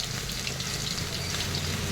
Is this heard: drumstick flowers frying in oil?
yes